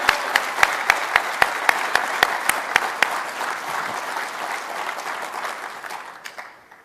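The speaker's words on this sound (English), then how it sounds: "If you would please help me give a warm and appreciative and a well-deserved round of applause to Suzanne Healy" Audience at a professional association meeting and exhibition gives a round of applause, sharp individual claps standing out early before the clapping thins and fades away.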